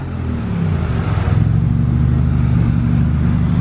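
A Ferrari Roma sports car drives past, its engine a loud, steady low rumble that swells slightly and holds throughout, with no voices.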